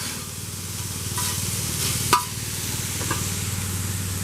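Asian carp fillets brown in a hot pan with onions and vegetables, giving a continuous close frying sizzle with soft scraping stirs and one sharp utensil tap.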